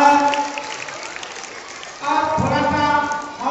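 An audience at a motivational speech claps. The applause is soft at first under a voice, then swells louder for the final second and a half.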